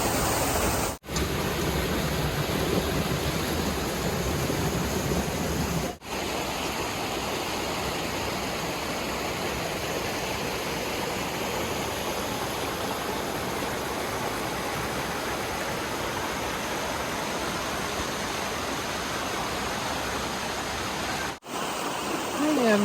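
Water pours down a canyon waterfall at Tahquitz Canyon, a constant broadband rush that holds even and fairly loud for over twenty seconds, broken only by a few momentary cuts.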